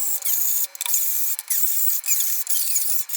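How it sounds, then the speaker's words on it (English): A hand-cranked string winder loosens the strings on a guitar during an upgrade, giving a soft, repeated whirring and rubbing with short pauses between turns, close and alone. "I'm actually going to use my string winder for this"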